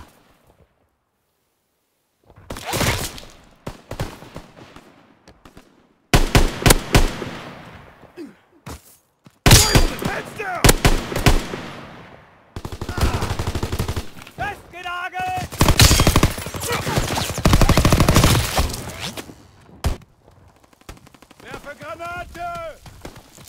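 Call of Duty WWII video game gunfire crackles in loud bursts of rapid shots and machine-gun fire, separated by short pauses, with in-game voices shouting over and between the volleys.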